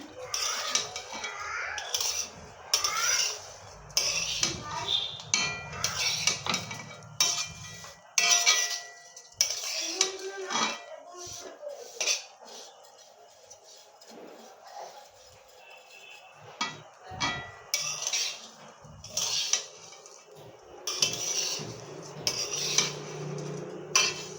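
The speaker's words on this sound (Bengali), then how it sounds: "ঘিয়েতে ভালোভাবে এটাকে খুব সুন্দরভাবে আস্তে আস্তে এটাকে নেড়ে চেড়ে ভেজে নেবেন" A utensil stirs and scrapes something frying in ghee in a pan for Srimoyee sweet, with repeated metallic clinks and scraping strokes close by over a steady, quiet kitchen background.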